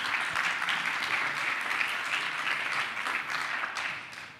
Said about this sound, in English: So big round of applause for him.